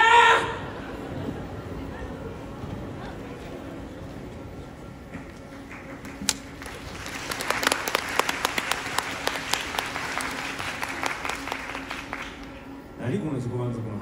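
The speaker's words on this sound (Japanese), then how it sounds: "何この自己満足の拍手。" Audience members clap at a live rock-and-roll show at Universal Studios Japan, scattered sharp claps building into a fuller round of applause, then fading; voices speak briefly before and after.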